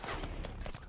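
Rapid video-game gunfire, a quick run of muffled shots in an even rhythm under a dense rumbling background, lasting about a second.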